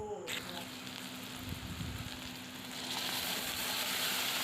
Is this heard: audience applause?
no